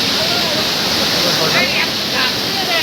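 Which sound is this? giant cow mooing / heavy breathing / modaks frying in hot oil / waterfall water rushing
waterfall water rushing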